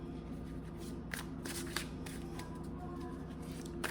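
Deck of cards being shuffled close by, a run of quiet riffling and flicking with soft snaps at intervals, faint and continuous without talk.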